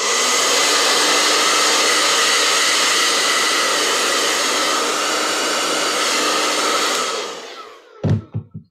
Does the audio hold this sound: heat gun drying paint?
yes